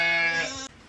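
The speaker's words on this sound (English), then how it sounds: "So I'm trying to maneuver sheep around." A single close, loud sheep bleat on a farm where ewes are lambing, a brief buzzy call that cuts off sharply before a quiet tail.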